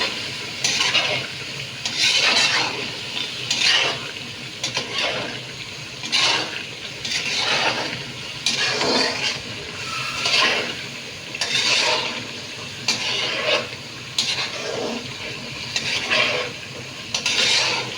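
Duck meat with cardamom and white pepper powder is stirred and fried in a pan, giving loud, rhythmic sizzling and scraping strokes that repeat every second or two, close and without voices.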